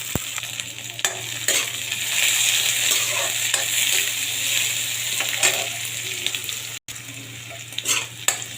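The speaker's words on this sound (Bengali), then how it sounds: "পেঁয়াজ আর কাঁচামরিচ ফ্রাই করা হয়ে গেছে।" Chopped onions and green chillies with bay leaves sizzle steadily in a hot pan, a continuous close frying hiss broken by repeated scraping stirs, with no talking.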